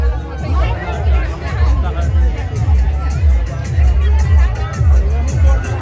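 A dense crowd at the Raja Rao Pathar fair: close, loud babble of many voices mixed with a rhythmic low thumping beat, continuous throughout.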